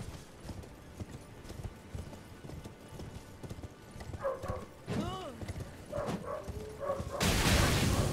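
Horse hooves clip-clop in a rapid galloping rhythm in the video game Elden Ring, continuous and fairly close, with someone talking over them and a brief whinny-like cry and noisy burst near the end.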